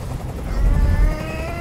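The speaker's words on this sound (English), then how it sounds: "I can't stand that noise anymore. Tell that helicopter to get out of here." Helicopter in the video game Detroit: Become Human, a loud low rhythmic rotor thump with a rising whine, close and continuous for a short stretch.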